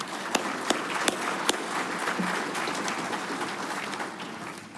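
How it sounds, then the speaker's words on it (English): Audience applause at an electric cooperative's annual meeting, a dense steady patter of clapping from a seated crowd, with a few sharp louder claps standing out near the start. "Please give them a round of applause."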